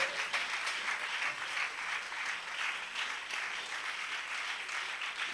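A church congregation breaks into sustained applause, a dense and fairly distant wash of clapping that keeps going evenly throughout.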